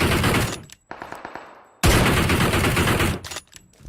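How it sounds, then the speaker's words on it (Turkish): Gunfire from the mobile battle-royale game PUBG Mobile during a midair no-scope headshot: a loud, dense burst of shots, a brief dip with scattered cracks, then another sustained, close volley of rapid fire fading near the end. "Havada zıplayarak no scope headshot attım."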